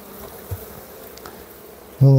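Packaged bees shipped from Germany, massed in a full package, buzz faintly at first, then burst into a loud, sustained close buzz near the end.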